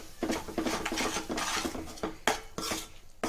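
Garam masala mixture being stirred in a pan, a utensil scraping and clattering against the metal in uneven bursts, close and fairly quiet, with no voices.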